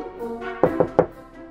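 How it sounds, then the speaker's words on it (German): Three quick knocks land on a house door, spaced evenly and close by, following a softer tonal sound at the start. "Sollen wir mal klopfen?"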